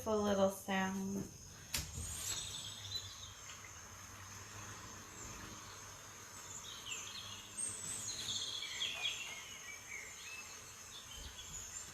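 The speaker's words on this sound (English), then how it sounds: "Let me put some birds and some pretty sounds on in the background right now." Birdsong and chirping insects play from a nature recording in the background, faint and continuous over several seconds, with someone speaking briefly at the start.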